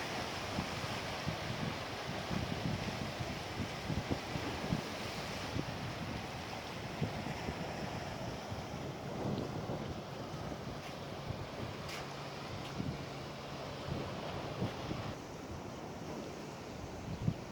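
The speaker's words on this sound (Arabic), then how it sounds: "يا حبيبي على صوت الموج يا عبد، الله برد الروح." Steady wind rush with a constant wash of surf underneath, a continuous broadband roar that stays even throughout with no voices.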